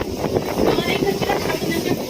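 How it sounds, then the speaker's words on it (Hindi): Strong, gusty wind roars steadily during a rainstorm, buffeting the microphone with a continuous broadband rush while a voice talks over it. "अरे इतना तेज हवा"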